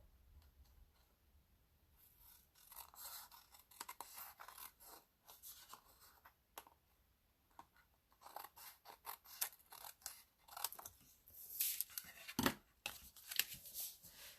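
Close scissor cuts trim the edge of designer paper on a handmade card, a run of crisp snips and rasping slices growing louder toward the end, with no voices.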